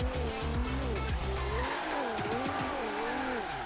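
A car in Forza Horizon 3 skids and wipes out, its engine droning loudly under sustained tire squeal and scraping, with shifting revs throughout the short, continuous racing clip.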